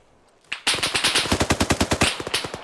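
Suppressing automatic gunfire in the Arma 3 video game: after a short lead-in, a loud, close burst of rapid, evenly spaced shots keeps going for about two seconds.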